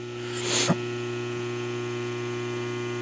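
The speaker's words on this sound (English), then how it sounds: "You can hear the solenoids going." Pneumatic solenoids on a Svecia SM screen printing machine switch with a short hiss of air and a sharp click, over a constant low electrical hum from nearby machinery.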